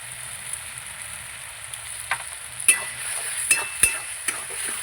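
Spice paste fries in oil in a pan while a spoon stirs it. Soft continuous sizzling is broken by several sharp scraping clicks as the spoon knocks against the pan.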